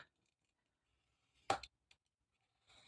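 Paper scissors snip once through printed desk calendar pages while trimming them to equal size, a single brief close cut followed by a faint click and a soft rustle of paper in an otherwise quiet room.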